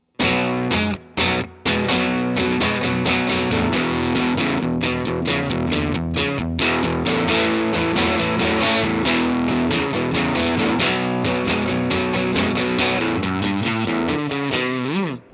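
An $80 pawn shop Strat-style electric guitar on its middle single-coil pickup plays chimey strummed chords continuously, loud and alone, with a couple of brief stops near the start.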